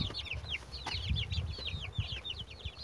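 Hens and their small chicks on a farm give rapid, high peeping chirps in quick runs, layered over softer low clucks and scratching close by, fairly quiet overall.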